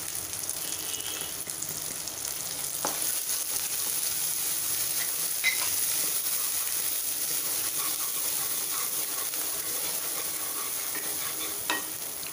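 Dry ground spices, turmeric, hing, cumin powder and red chili powder, sizzle in hot oil as they are fried and stirred, a steady close hiss with occasional scraping taps, no talking.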